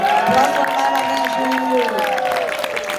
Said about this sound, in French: Est-ce qu'on peut applaudir comme il se doit Mama Bijou